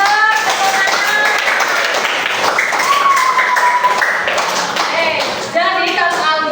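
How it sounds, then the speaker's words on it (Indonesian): Sixth-grade primary schoolchildren clap together in a classroom during a coding and artificial intelligence lesson, a dense, steady patter of many hands lasting several seconds, mixed with children's voices. "Tepuk tangan."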